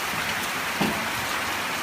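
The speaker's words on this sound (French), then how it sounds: "quand la pluie tombe sur la tôle" Rain falls steadily on a sheet metal roof, making a dense, loud, unbroken hiss that fills the whole scene, with a faint voice briefly beneath it.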